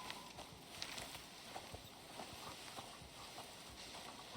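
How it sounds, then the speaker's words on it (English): Horse hooves walking in the video game Icarus, a quiet, steady clip-clop heard under a constant outdoor wash of ambient noise. "There's another horse up here."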